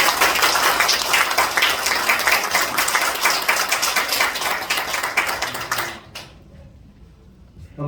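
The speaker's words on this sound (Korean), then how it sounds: "나오실 때 큰 박수로" Audience applause at a documentary screening in a church hall, dense sustained clapping from a gathered crowd that fades out after about six seconds, leaving a quiet room.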